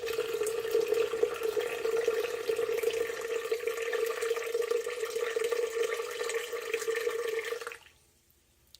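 Slightly warm water, about 40 °C and 315 grams, poured in a steady unbroken stream for bagel dough, with a clear ringing tone that holds for several seconds and then cuts off near the end.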